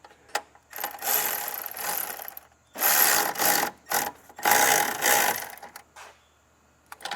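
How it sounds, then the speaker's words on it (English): Close ratchet wrench working a nut on a diesel Audi Q7, a run of quick rapid clicking bursts in three long stretches separated by short pauses, loud and alone. "So I'm gonna tighten this nut here."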